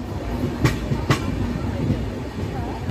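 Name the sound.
Konark Express train running on the tracks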